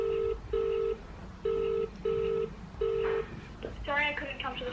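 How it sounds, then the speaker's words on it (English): A phone call being placed on a mobile phone: five loud, evenly spaced dialing beeps sound one after another, followed by quieter tonal chirps and some background noise. "So now I'm gonna call Skay and Izzy and see if they answer and tell them."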